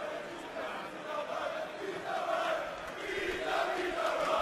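A large crowd roars and cheers in an arena during a darts match at the European Championship, a broad, swelling wall of voices with no commentary over it.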